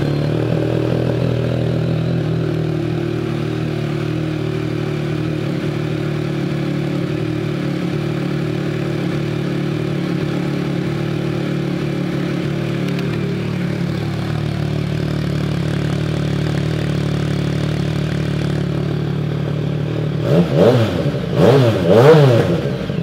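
A 2015 Yamaha FZ-09 motorcycle idles close by with an even, steady rumble, then near the end it gets a few sharp revs that rise and fall quickly.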